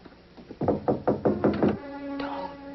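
Someone knocks on a door in a radio drama, six firm raps in a quick even series, close and loud, then a low sustained tone follows.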